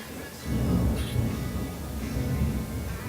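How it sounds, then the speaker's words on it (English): Thunder during a thunderstorm rolls low and steady for several seconds, a deep rumble in the background with faint rain. "I don't know if you can hear the thunder"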